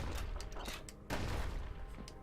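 Grenade blasts in the action game Bastion: dense, loud booming bursts packed closely together, with a sharp fresh detonation about halfway through and a continuous rumbling wash of explosions throughout.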